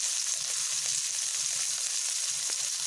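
Slices of pointed gourd frying in a pan give off a constant bright hissing sizzle at moderate volume, steady throughout with faint low bubbling beneath and no voices.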